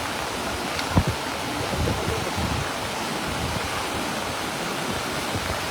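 High, fast floodwater rushes at Tubod Bridge in Mahayahay, a constant broadband roar of churning water close by with no voices over it.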